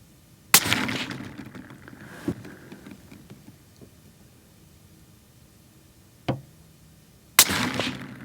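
Three sharp, loud reports from a Ruger American Gen II Predator rifle in .223 fired at a range, spaced apart with fainter impacts or echoes between them.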